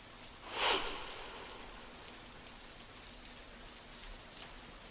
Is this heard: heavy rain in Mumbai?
yes